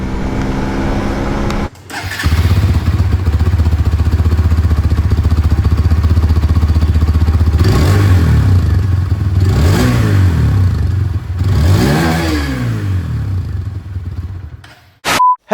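A 2024 Hero Xtreme 160R 4V motorcycle accelerating hard from a standstill toward 100 km/h. The engine note rises loudly and repeatedly, with clear drops at each gear change, then cuts off near the end.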